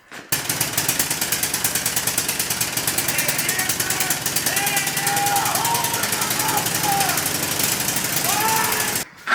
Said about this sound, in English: you can clearly see, a big old hole in the muffler. That's why it was so loud.